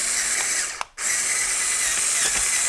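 A Qihui R/C toy tank runs with a steady mechanical whir and grinding as its front panels scrape against the hull. The sound briefly drops out before resuming.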